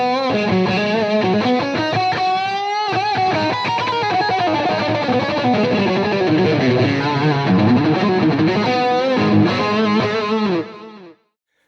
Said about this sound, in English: If I kick on both overdrive pedals, I still have that tight compressed crank combo feel and sound,